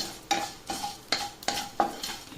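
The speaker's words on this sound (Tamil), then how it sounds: "ஆயிலில் இன்க்ரீடியன்ஸ் எல்லாம் நல்லா வறுபடணும். வெள்ளை எள்ளு நல்லா செவக்கணும்." Ingredients and white sesame seeds roast in a little oil in a pan, heard as five regular, close scrapes of a spoon or spatula against the metal over a light sizzle, with no voices.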